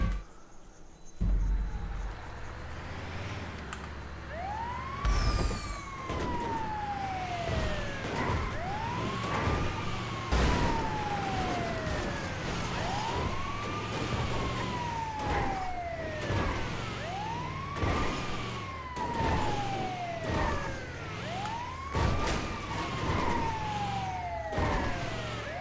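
An ambulance siren in GTA 5 wails, rising and falling repeatedly, steady and loud, over a constant rumbling engine-like hum with scattered clicks.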